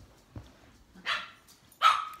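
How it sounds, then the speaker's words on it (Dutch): Dogs bark at home, a soft yip followed by two louder barks spaced about a second apart, fairly close with no talking. "want de honden zijn super druk."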